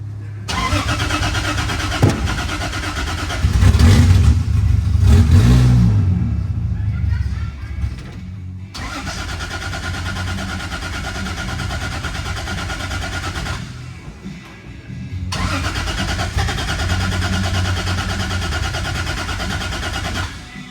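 Nissan S14 drift car engine starting for the first time after a fuel cell install, loud cranking and catching into a rough idle, then cutting and restarting in a garage.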